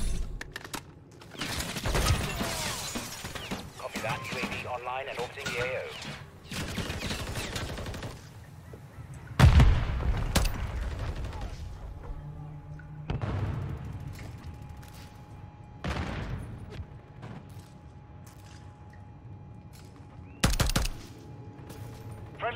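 Rapid bursts of gunfire in a shooter video game, several loud volleys spread irregularly across the stretch with a heavy blast near the middle and a short burst near the end, over a steady game background with no talk.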